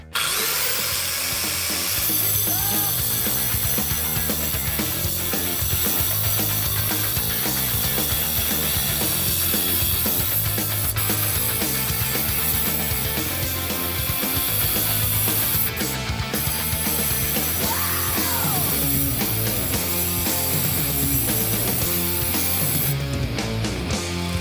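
Power grinder working a metal part down to a square peg for a record-attempt bumper car build, a loud continuous abrasive whine with shifting pitch that runs steadily for the whole stretch.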